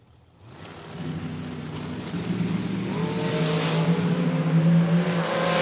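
A dragster launches at a drag race, its engine roaring up from a low rumble into a rising, loud, steady howl as it accelerates away, with no talk over it.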